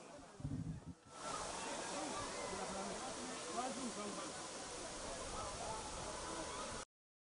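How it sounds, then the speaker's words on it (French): The Suruku waterfall in the mountains of Togo roars as a steady, dense rushing wash of falling water, starting after a brief muffled rustle and holding constant and close until it cuts off. "La cascade de Suruku et puis la randonnée dans la montagne qui nous a conduit à la source de la cascade."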